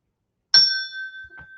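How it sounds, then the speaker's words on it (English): A single bright ding from a struck bell rings out clearly, its pure tone sustaining and slowly fading, with faint soft thumps near the end. "I had to hit the bell early."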